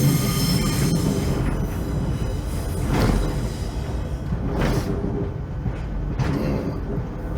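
A Midland Railway train running on the rails, heard from the driver's position as a loud continuous rumble with recurring wheel squeals and rising surges of rail noise, no voices.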